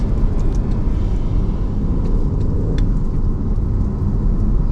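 A 2022 Aston Martin Vantage F1 Edition engine rumbles loudly and steadily nearby, a low throaty drone with a few faint higher clicks over it, and no talking.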